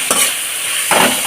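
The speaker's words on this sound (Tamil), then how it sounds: "இப்போ இந்த வெங்காயம் வந்து நல்லா வதங்கட்டும்." Onions with two finely chopped tomatoes sautéing in a pan for a Pongal-special crab curry, a steady close sizzle with stirring scrapes near the start and again toward the end, no voices.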